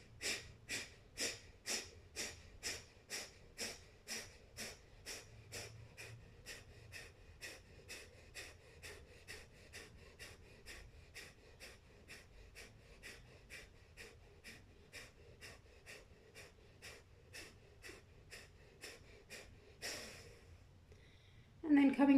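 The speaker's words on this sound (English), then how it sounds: "taking another breath in for round 2. And beginning on your exhale." Forceful rhythmic exhalations during a yoga breathing exercise, roughly three dozen sharp, evenly paced breaths that soften over time, followed by a pause and a deep inhale at the end, close and clear.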